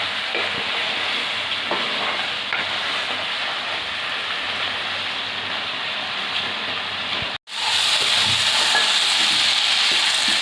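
Continuous crackling sizzle of ground ginger, cumin and coriander paste frying in a pan, with stirring scrapes, briefly cutting out near the end before resuming loudly.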